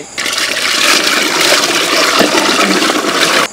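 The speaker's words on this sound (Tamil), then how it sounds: "ரசத்துக்கு தேவையான தண்ணி பச்சை தண்ணி" A steady stream of plain water pours into a pot for rasam, an even rushing splash lasting a few seconds before stopping abruptly.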